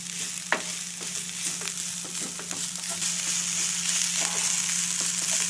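Chopped vegetables with salt and pepper sautéing in a pan for momo filling, a continuous sizzle broken by frequent scraping stirs, close by and without talk.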